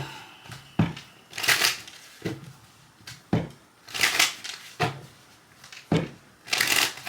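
Tarot cards being shuffled by hand at a table in several separate bursts, each a crisp riffling rustle lasting about half a second, with short pauses between them; close and clear, with no talk over it.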